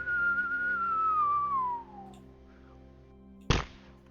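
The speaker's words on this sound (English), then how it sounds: "all you hear is just a whistle" A single long whistle gliding slowly downward in pitch, clear and fairly loud over a steady low hum, then fading out before a short sharp thud.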